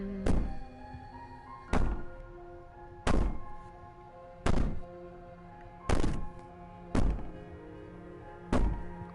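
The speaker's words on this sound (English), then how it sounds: "Bang on the door you want." Heavy banging on a door in the video game Slay the Princess: seven deep, booming thuds spaced about a second and a half apart, each ringing briefly, with a quiet musical drone underneath.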